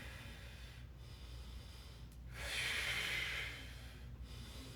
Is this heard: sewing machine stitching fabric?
no